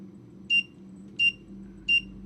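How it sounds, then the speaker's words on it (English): A Digispark timer gives three short, clear electronic beeps at a steady pace of about one every 0.7 seconds, over a low background hum. "So it'll just keep beeping and counting the beeps until you get to it"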